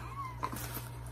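A cat sitting in someone's lap gives a short, close meow partway through, over a steady low household hum.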